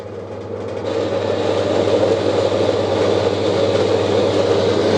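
Horizontal bandsaw cutting metal in a home workshop, blade held up slightly to ease the pressure: loud steady motor hum and grinding drone throughout, rising a little after the first second.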